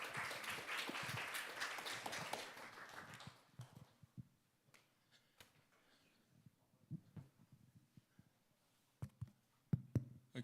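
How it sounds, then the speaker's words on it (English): Brief applause at a Seoul panel session for the panelists, fairly loud at first then dying away after a few seconds into scattered faint claps and small knocks. "please give a big applause to the panelists"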